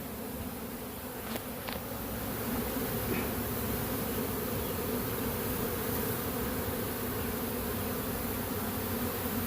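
A swarm of honey bees from several colonies, with multiple mated queens, hums steadily throughout, a close, dense buzzing drone with a few individual bees passing near.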